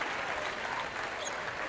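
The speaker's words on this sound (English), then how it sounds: "one more round of applause, please, for your 3rd region all-tournament team" Continuous crowd applause at a high school basketball regional championship, dense and even clapping from the stands heard at a distance, fairly quiet and steady with no break.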